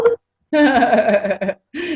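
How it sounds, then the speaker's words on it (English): A Skype notification chime sounds from a computer in a few bright, tonal bursts, fairly loud and close, with short gaps between the pulses. "Skype just needed to chime in there."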